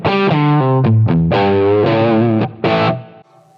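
An electric guitar with added gain distortion through a Line 6 Helix plays a short melodic phrase of sustained, harmonically rich notes, loud and close, ending with a brief decay and no speech.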